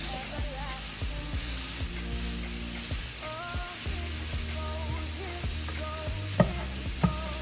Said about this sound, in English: We're going to saute these down and sear them up.